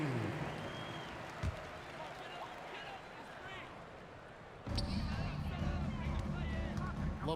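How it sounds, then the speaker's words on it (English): Arena crowd applause and cheering in the NBA 2K26 basketball video game during a timeout, a steady wash of noise that swells louder partway through, with babble mixed in. "Let's give them a big round of applause."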